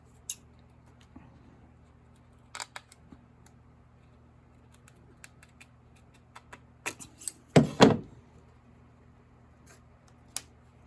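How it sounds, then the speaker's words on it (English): During restoration of an 1867 Chickering piano, a mostly quiet room with scattered small clicks and snips, then a cluster of louder crisp scissor cuts near the end, close up. "These scissors are pretty accurate. I can cut anything with them."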